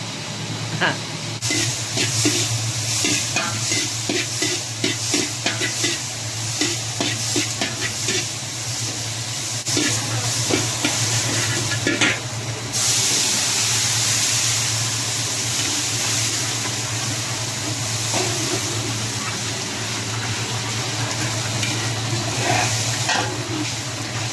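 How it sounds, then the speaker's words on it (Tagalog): Milkfish sautéing in a hot pan, a steady oily sizzle and hiss with intermittent scraping and stirring clatter close by, running continuously throughout with a low hum underneath. "Gisa natin to guys para mawala yung lansa ng isda"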